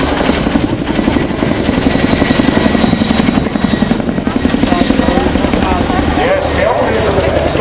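An RAF Chinook helicopter performing a flying display at Waddington, its rotor thudding loud and steady throughout while a commentator talks over the public address.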